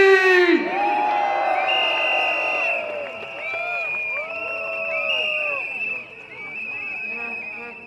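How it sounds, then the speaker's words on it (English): A crowd at an outdoor political rally for the SDP at Evergreen Primary School in Sembawang West cheers, whoops and shouts loudly and continuously. Lively voices and high whistles mix into a dense, sustained roar. "can we give a cheer for the Chee?"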